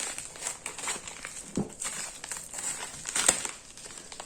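Crinkling and rustling of plastic packaging around an AliExpress item as it is handled and cut open, close and uneven with a few sharper crackles, no talking.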